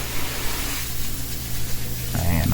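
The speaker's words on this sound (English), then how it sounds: "Now I'm getting my surface cleaner." A pressure washer surface cleaner sprays pavers with a loud, steady hissing rush of water. The spray dips briefly in the middle, and a voice and a lower rumble come in near the end.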